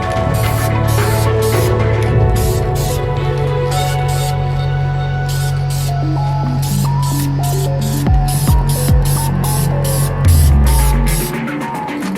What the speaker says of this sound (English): I'm going to paint them. Same again here, 3 light coats.